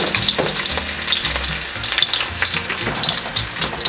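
Ginger fries in oil with garlic for squid adobo, a loud, close sizzle with repeated stirring scrapes and spatula knocks throughout.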